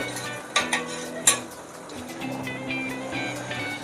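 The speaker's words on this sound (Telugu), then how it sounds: "ఇలా ఇలా కలుపుతూ ఉండాలన్నమాట ఇదంతా దగ్గర పడేంత వరకు" A thick sweet corn mixture is stirred in a pan, with a few sharp clanks of a spoon against metal early on, then softer, steady scraping strokes at close range.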